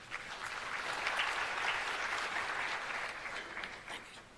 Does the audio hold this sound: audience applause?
yes